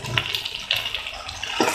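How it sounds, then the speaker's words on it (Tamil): Water pours into Gobi Manchurian sauce sizzling in a pan, a continuous close splashing, hissing rush with small bubbling bursts throughout. "சாஸ் கூடவே கொஞ்சமாக தண்ணி கலந்து தண்ணி அதில் விட்டுடலாம்."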